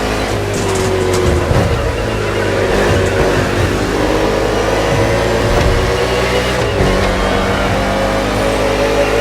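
NASCAR stock cars race through an urban Honolulu circuit in The Crew Motorfest, a dense, continuous roar of several engines revving and droning together, steady and loud for the whole stretch.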